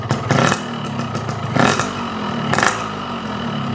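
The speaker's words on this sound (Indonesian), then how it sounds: "Kalau digeber begini" A hot two-stroke motorcycle engine running Gasoli Evolution 2T oil is revved three times in quick bursts over a rattling, buzzy idle, heard up close.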